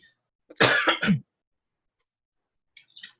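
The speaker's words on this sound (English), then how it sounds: "I get old and cough a little bit." A single rough cough, close and clear, followed by a brief faint breathy sound after a pause of silence.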